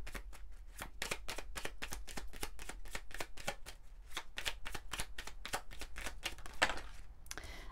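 Oracle cards are shuffled by hand in quick repeated riffles, a crisp papery flutter and slap that runs steadily for several seconds up close.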